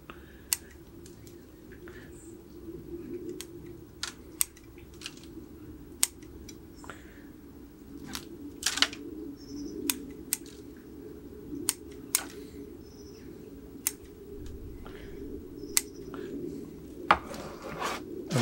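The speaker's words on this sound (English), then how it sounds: "trim out some of these dead roots" Scissors trimming dead roots of a Japanese maple 'Deshojo', a series of sharp, close snips scattered irregularly over a quiet low background hum.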